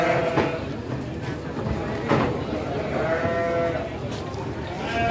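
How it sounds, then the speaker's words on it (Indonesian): Sheep bleat repeatedly at a sheep contest, several loud wavering calls rising over a busy crowd murmur and background chatter, with people talking throughout. "Untuk domba-dombanya."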